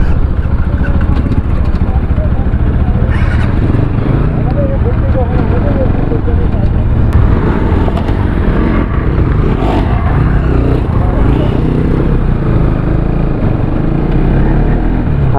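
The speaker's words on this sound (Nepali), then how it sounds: "पाँचवटा बाइकमा छौँ हामी है" Five motorcycles, mostly NS models, ride together on a hill road near Punchakot, Baglung, giving a steady, loud engine and road roar throughout, with wind buffeting and people talking over it.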